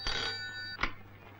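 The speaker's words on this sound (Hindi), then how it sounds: "यस वीर, तुम्हारा फोन" A telephone bell rings in a short, bright burst at the start, followed by a sharp clack like a receiver being lifted, over a steady low hum in an indoor room.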